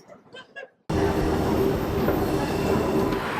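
A Bucharest subway train runs loud and steady after a brief voice at the start, a dense roar of wheels and motors with a thin high squeal riding over the rumble.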